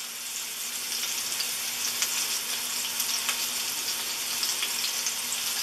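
Sunflower oil frying in a pot for a seafood stew: a steady, fairly loud broadband sizzle that runs unbroken for several seconds, with occasional faint crackles and no voices.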